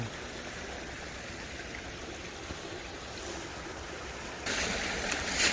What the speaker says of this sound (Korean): 이 개고기 물이 막 절절 흘러 넘치는 거야